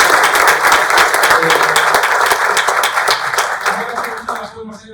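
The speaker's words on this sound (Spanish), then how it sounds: "Un aplauso." A room of guests at a breakfast gathering in a private home bursts into dense, lively clapping that holds steady before thinning out and stopping near the end.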